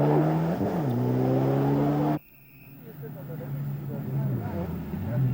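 A Mitsubishi rally car runs flat out on an early stage of a 1995 rally near Eindhoven, its engine droning loud and steady with rising pitch, then cutting abruptly to a quieter, more distant engine hum with background noise.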